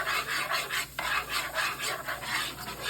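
Butter melts in a pan with a soft sizzle while a utensil stirs it in rhythmic scraping strokes, close and fairly quiet, with one brief break and no talk.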